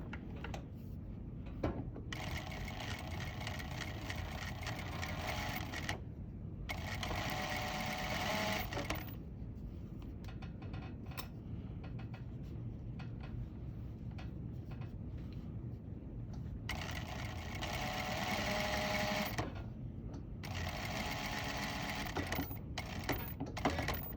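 A sewing machine stitches fabric in several runs of rapid, even mechanical chatter, stopping and restarting between passes, with quiet handling noises in the pauses; close and fairly faint overall.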